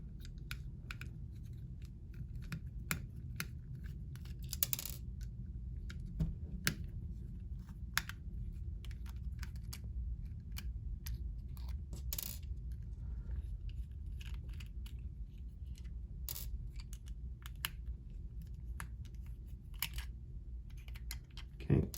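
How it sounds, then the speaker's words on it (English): Small screws are backed out of the back cover of a Kia Forte flip key fob, with faint sharp clicks and ticks of the screwdriver scattered over a quiet, steady background hum. "Now we need to remove these 4 screws right here."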